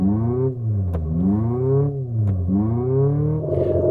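An electric car's external speaker plays a synthetic imitation of an Abarth 595 engine, revving up and down in two rising and falling sweeps, loud and close, with no talk.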